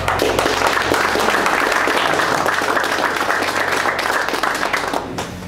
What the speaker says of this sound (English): Give him a big round of applause, David